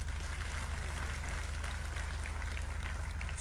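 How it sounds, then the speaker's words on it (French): An audience applauds at a memorial ceremony for Thomas Sankara in Burkina Faso, a dense continuous wash of clapping held at steady loudness throughout, with no voices standing out. "je vous demande d'applaudir très fort"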